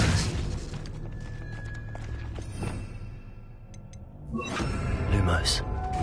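Expelliarmus disarming spell cast in the Hogwarts Legacy video game, a crackling magical burst with booming, shattering impacts over busy game sound, fading mid-clip before a second loud surge of effects.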